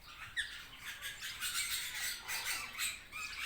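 Ringneck parrots squawk inside a large aviary, a busy chorus of shrill overlapping calls and chatter at moderate distance with no talking.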